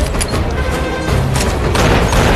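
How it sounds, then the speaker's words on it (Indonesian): A film shootout with gunfire: dense, loud, continuous crackling blasts and booms packed into a couple of seconds, with no clear gaps between shots. "Hingga terjadilah tembak-menembak."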